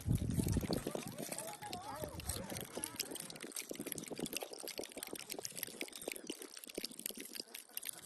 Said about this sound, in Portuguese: O tocar do espinho batendo no outro reproduz o barulho de chuva ou cachoeira, ou uma chuvinha fina